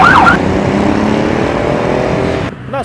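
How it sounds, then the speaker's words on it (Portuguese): Traffic noise on a busy city street: a loud, continuous roar of passing cars and engines, with a brief horn-like tone at the start and a sudden drop in level near the end. "Nas ruas, comércio e trânsito, o barulho vem de todos os lugares."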